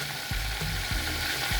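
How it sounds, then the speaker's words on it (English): Boiled beef frying in hot oil gives off a steady, close, hissing sizzle, with a few soft clacks of stirring or moving the pan. "So that's my beef frying."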